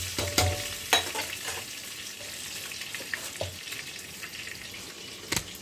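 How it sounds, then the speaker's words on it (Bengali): Potatoes frying with salt and turmeric, a close steady sizzle broken by a few sharp clacks of a spatula against the pan, ending with a louder knock, no talk. "এবার এর মধ্যে দিয়ে দেব আলু। ওই একই পদ্ধতিতে নুন এবং হলুদ দিয়ে ভেজে নেব।"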